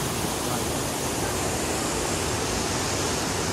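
Steady, dense broadband rush of falling water, loud and constant throughout with no pauses, standing near a waterfall at Rock Garden, Darjeeling.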